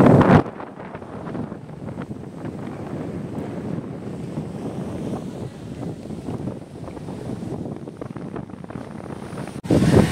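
Sea waves and gusting wind roll steadily along the shore of Digha beach, a continuous loud roar of surf with wind buffeting the microphone throughout.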